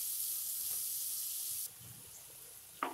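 Onions sauté in a pan over a medium flame, a steady soft sizzle and hiss that eases partway through, with a faint stir or scrape near the end.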